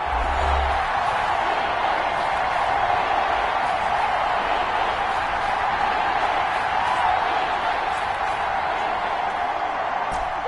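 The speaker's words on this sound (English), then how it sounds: "the crowd getting into it as we come up on a big third down" Stadium crowd at an NFL game between the Arizona Cardinals and San Francisco 49ers, a steady loud roar of cheering building ahead of a big third down, continuous throughout with no break.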